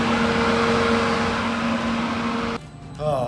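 Rivian R1T electric pickup's AC fan roars loudly while the truck charges, a steady broadband whoosh with a low hum that runs unbroken for over two seconds, then drops away abruptly into quieter background with a faint voice.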